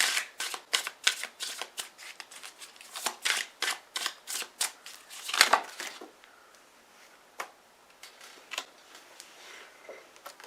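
Tarot cards being shuffled by hand, a rapid run of close riffling snaps and slaps, some cards spilling out mid-shuffle, then a sparser few taps as it settles.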